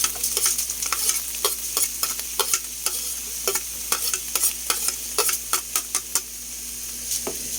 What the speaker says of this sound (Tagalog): Gisa-gisa lang rin natin, no?